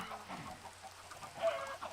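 Chickens cluck in the video game Minecraft, several short, choppy clucks in an uneven rhythm, close and moderately loud with no speech.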